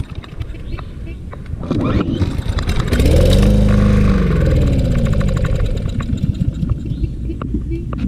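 Troy-Bilt TB200 lawn mower engine, 625EX series, coughing to life after carburetor cleaning: a loud, close rumble that surges up, runs a few seconds, then sputters down, with a voice talking over it.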